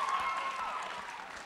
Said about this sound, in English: round of applause for the senator.